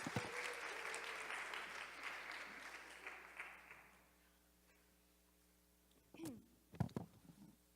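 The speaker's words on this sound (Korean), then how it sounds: "우리 박수로 한번 좀 격려하도록 하겠습니다" Audience applause fills a church service, a broad steady clapping that fades out after about four seconds, followed by quiet room tone and a few brief knocks and rustles.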